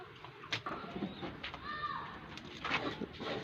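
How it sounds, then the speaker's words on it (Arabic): Pigeons in a coop give a soft, low cooing call midway through, faint against a noisy indoor background with scattered clatter. "ندخل بقى عند الحمام."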